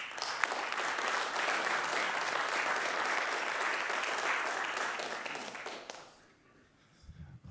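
An audience at a talk applauds to welcome the speaker, a steady, full round of clapping that holds for about six seconds before fading quickly into near silence.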